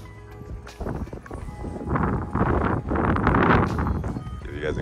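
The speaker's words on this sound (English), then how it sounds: "Hopefully the wind isn't too loud." Wind blows outdoors in front of a new home's exterior, a constant rushing rumble that buffets the microphone and swells louder toward the middle and end.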